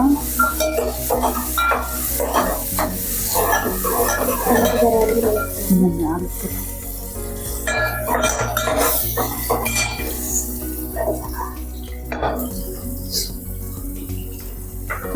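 A metal spoon stirs Andhra-style dal (pappu) in a cooking pot, scraping and clinking against the sides in irregular strokes with a light sizzle underneath and faint talk at times.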